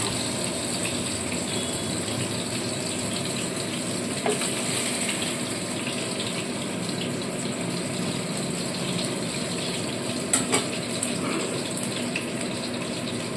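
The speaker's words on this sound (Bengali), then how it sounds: "এই মাছ খুব কড়া করে ভাজবো না একটু হালকাভাবেই ভেজে নেবো" Pabda fish frying lightly in oil, a steady dense sizzle with constant crackle that runs throughout, close and fairly loud, with a few brief louder pops.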